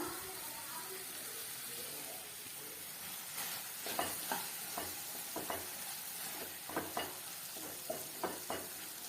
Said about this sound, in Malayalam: സോസ് ഒഴിച്ച് കൊടുത്തിട്ട് ഒന്ന് മിക്സ് ചെയ്യാം കേട്ടോ